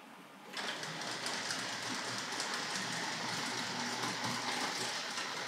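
A steady whirring rattle of a Tri-ang Hornby R.754 M7 tank locomotive with silver seal wheels running continuously along its track, starting abruptly and holding an even, fairly quiet level.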